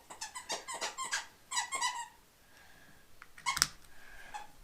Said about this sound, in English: Puppy squeaking with a squeak toy.